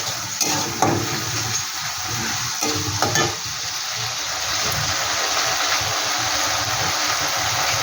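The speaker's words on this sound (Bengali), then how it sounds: "তারপর এখানে দিয়ে দিলাম আদা রসুন কাঁচা লঙ্কা বাটা এটাকে একটু নেড়ে নিচ্ছি" Ginger, garlic and green chili paste frying in a pan, a loud continuous sizzle with a few sharp stirring scrapes in the first few seconds, then an even hiss.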